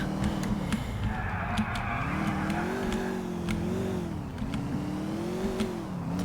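A game car in GTA 4 accelerates with a steady, wavering engine drone that rises and dips in pitch as it revs, loud and continuous, with faint clicks and ticks scattered above it.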